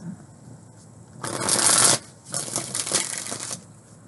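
Tarot cards are shuffled in two quick riffling bursts, crisp papery flutters close up with a short pause between them.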